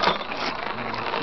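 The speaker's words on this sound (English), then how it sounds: "And give it a crank." Crank of a tall Beaver spiral gumball machine turned after two quarters go in, giving a short, steady mechanical ratcheting whir of gears and pawl at close range, with no talk.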